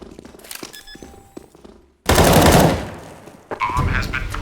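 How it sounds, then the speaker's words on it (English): Loud bursts of rapid automatic gunfire in the Counter-Strike mobile game on the Nuke map, a sharp sustained volley after a quieter stretch of game sounds, then further shots. "Stop shooting me."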